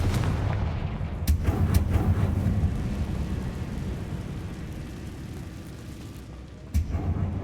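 Fire spell explosion in the Hogwarts Legacy video game: a deep rumbling boom rolls on and slowly fades, with a few sharp cracks near the start and another hit near the end.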